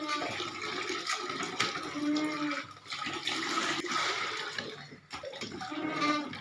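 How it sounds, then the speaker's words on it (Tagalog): Water gushes steadily from an indoor hand-operated poso water pump, a broad continuous splashing rush heard close by, with brief dips between strokes and faint squeaky pump sounds mixed in. "Malakas pa yung tubig."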